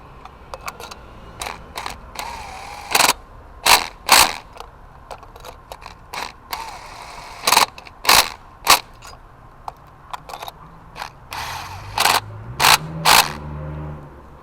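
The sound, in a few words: ratchet wrench torquing parts on a Ford Focus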